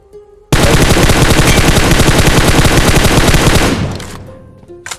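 Rapid automatic gunfire from PUBG Mobile, a loud sustained burst of machine-gun fire that runs for about three seconds and then tails off, followed by a couple of sharp isolated shots.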